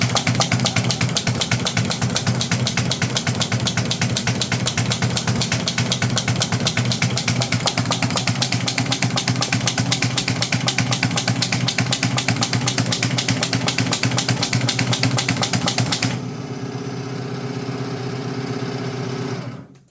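An Uchida EZF-200 paper and letter folding machine runs steadily with a loud, rapid mechanical clatter of fast repeating taps. After about sixteen seconds it drops to a smoother, quieter hum before cutting off.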